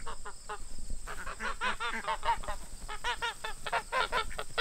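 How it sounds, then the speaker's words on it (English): Geese honking loudly on a farm where ducks are kept, a rapid, continuous series of nasal honks from several birds close by, overlapping one another throughout. "Geese are shouting."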